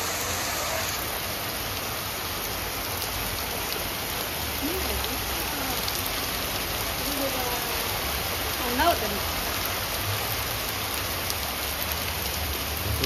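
Ice and rain fall together in a Delhi hailstorm, making a steady, dense patter of drops and pellets close by. A person speaks briefly over the constant wash of the downpour.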